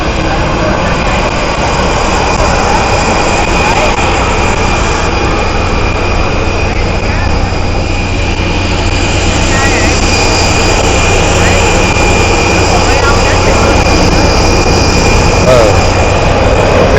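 Jet airliner taking off at a small domestic and international airport, a loud continuous roar with whining turbine tones, steady and close throughout, with voices mixed faintly underneath.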